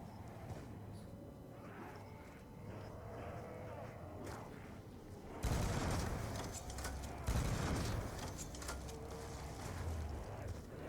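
Rapid automatic fire from a weapon in Black Ops 2 Zombies, a fairly faint low rumble that jumps into a louder burst of shots halfway through and keeps going in waves.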